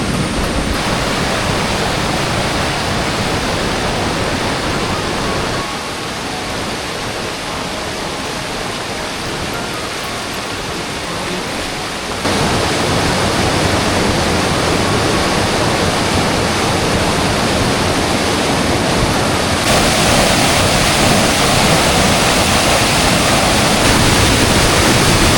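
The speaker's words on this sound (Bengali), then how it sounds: "ঝর্ণার শব্দ।" Khoiyachara waterfall in Mirsharai pours in a loud, unbroken roar of rushing water, a broad hiss that shifts slightly in level, with no talking.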